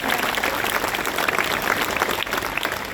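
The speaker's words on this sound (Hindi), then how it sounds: "एक बार इन सारे कलाकारों के लिए बहुत अच्छी तालियां यहाँ से वहाँ तक" A standing crowd applauding street-play performers at a Women's Day celebration at CSIR-CDRI Lucknow, loud continuous clapping filling the space without letup.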